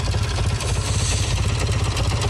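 A Kawasaki W1SA motorcycle engine idles steadily nearby, a loud, even mechanical putter with light clattery ticking throughout, heard alone with no voices.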